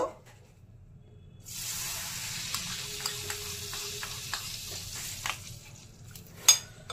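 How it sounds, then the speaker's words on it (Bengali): Rice stirred with ghee and turmeric in a pot, a quiet start giving way to a steady soft sizzle with scattered spoon scrapes and taps, ending in a sharper clink. "তার জন্য ঘি আর চাল এবার আমি একসাথে মিক্সড করে নেব।"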